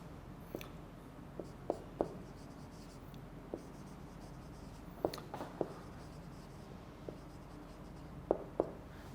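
A teacher writes notes during an online English lecture: faint, scattered scratching strokes with a few sharper taps, irregular and quiet against a low room hiss, no talking.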